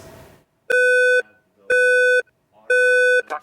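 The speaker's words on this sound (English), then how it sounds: "that's when we employ the fire alarm" Laboratory fire alarm sounding three loud, steady electronic beeps about half a second each, evenly spaced and close, after a brief faint murmur.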